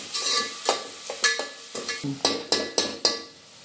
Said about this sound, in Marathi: तर आपल्याला चांगलं गुलाबी कलर येतोपर्यंत आपल्याला कांदा शिजवून घ्यायचा आहे।